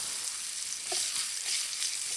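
Cumin seeds sizzle in hot oil in a pan, part of a seaside fish meal cooked outdoors; a steady, close hiss of frying runs throughout with no talking.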